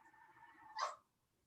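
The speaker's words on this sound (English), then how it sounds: "I'm talking to my puppy. He's crying." A single short, faint whimpering whine from a puppy, rising briefly then fading into quiet.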